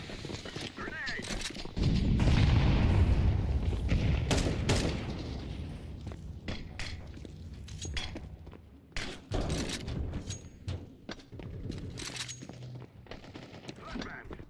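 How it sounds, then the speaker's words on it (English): A grenade blast in Counter-Strike 2 lands as a loud low boom and rumble, followed by scattered gunshots, thuds and clicks, with players talking over the action. "Grenade."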